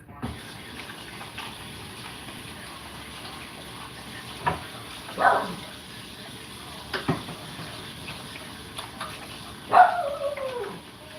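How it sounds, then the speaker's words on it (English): A dog gives a couple of short, fairly faint barks some seconds apart in a kitchen where water is running steadily in the background. "That is my dog, Casper."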